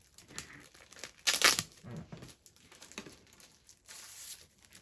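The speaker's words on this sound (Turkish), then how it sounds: "ilk öncelikle eğitim setinden çıkan poşetimizi açarak başlıyoruz" A plastic bag from a science kit crinkles and tears open in short bursts, with one loud rustling rip early on and lighter crackles after it, close by and without talk.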